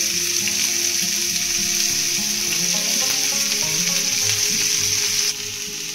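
Raw green chillies and garlic sizzle and fry steadily in hot mustard oil, a loud continuous crackle that drops slightly in level near the end, with no voices.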